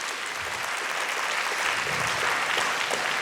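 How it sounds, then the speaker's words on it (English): An audience gives a round of applause for a program director, a dense, steady wash of clapping, moderately loud and even throughout, with no speech over it. "Let us please give the program director a round of applause."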